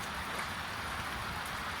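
Steady, dense rain hisses evenly on a surface nearby on a farm in Ecuador, a constant wash of drops with no voices.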